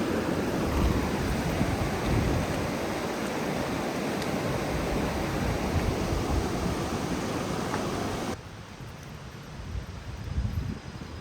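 Steady broadband rushing of a creek in Icicle Gorge near Leavenworth, Washington, continuous and fairly loud, easing slightly near the end.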